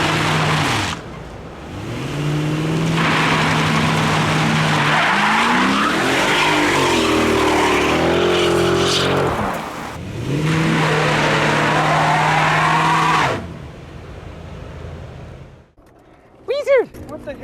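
A Mercedes E63 AMG wagon with 204,000 miles and faulty traction control does a burnout, its engine roaring loudly with long rising and falling tire squeals across two passes. Quieter sounds and brief voices follow at the end.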